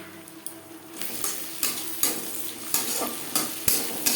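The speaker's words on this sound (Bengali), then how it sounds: "পেঁয়াজ ভাজা হয়ে এসছে" Onions frying in a pan for a fish curry, a close crackling sizzle punctuated by rhythmic scraping strokes of a spatula or spoon against the pan, roughly two per second.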